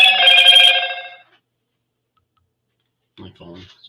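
Loud, bright phone ring burst lasting about a second, then silence before a short, faint clicking rattle.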